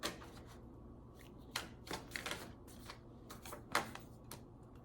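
Tarot cards being shuffled and drawn, giving soft papery riffles and sharp flicks at irregular intervals, close and fairly quiet with no voices.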